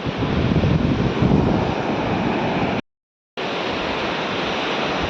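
Sea waves wash steadily onto the shore at Dahanu, a loud, continuous broadband roar of surf with wind, cut by a brief gap of silence before the surging resumes.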